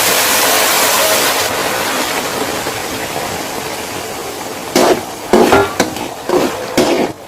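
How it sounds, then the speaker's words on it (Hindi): Metal spoon stirring thickening suji halwa in a pan on the stove, a steady soft scraping at first, then a few louder clattering knocks against the pan toward the end. "आपने चम्मच बंद नहीं करना, चम्मच हिलाते रहना।"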